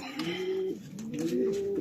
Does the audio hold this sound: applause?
no